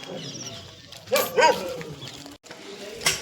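A dog gives a couple of short, close yelping barks in a village setting, with faint background murmur around them.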